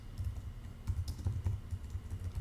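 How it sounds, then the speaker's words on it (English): Quiet typing on a computer keyboard, a soft, uneven patter of key clicks with a few slightly firmer taps, close and alone without speech. "As you can see, as I'm typing"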